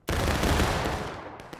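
A heavy gunfire burst from the Civil War video game War of Rights rings out suddenly as a dense, loud volley that rolls on and fades slowly over a second and a half.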